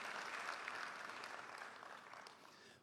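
Audience applause at the closing ceremony of a French-language insurance conference, a steady wash of many hands clapping from a fairly distant crowd, fading slightly toward the end with no voices over it.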